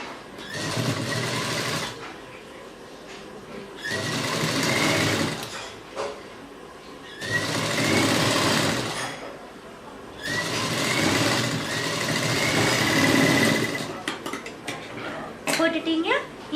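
A sewing machine stitches piping onto the neckline of blouse fabric, running in four loud, steady bursts separated by short quiet pauses.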